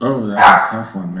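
A pet dog barks loudly in a home during an interview, a single sharp bark set between a man's speech, which continues before and after it.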